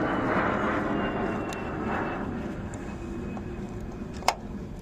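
An airplane passes overhead on a flight path, a steady broad engine roar that swells and slowly fades, with a faint click near the end.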